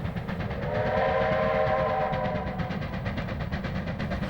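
A New Zealand KB class steam locomotive, built for heavy goods trains on the steeply graded Midland line between Springfield and Arthurs Pass, sounds a sustained whistle over a loud, steady rumble of the working engine and train, with no talk.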